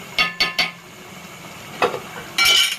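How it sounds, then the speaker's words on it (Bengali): A metal lid clatters onto a cooking pot of beef curry: three quick clinks, a pause, then two more bright knocks, close and loud with no talk. "ঢাকনা দিয়ে দিব"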